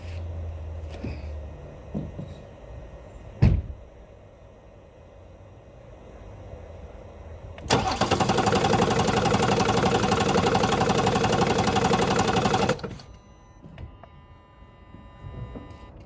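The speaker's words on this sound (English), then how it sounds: "crank the engine and see if the engine can be started." A BMW F36 430d Gran Coupe diesel with a fault code cranks loudly for about five seconds after a sharp click, then the starter cuts out and the engine fails to catch, leaving quiet background hum.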